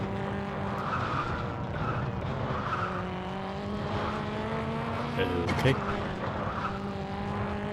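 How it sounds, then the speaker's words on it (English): A rally car skids along a track in the WRC 3 video game on PS2 at Catalunya, its engine droning steadily under a faint tire squeal while someone briefly speaks. "As I continue to drive this car on edge."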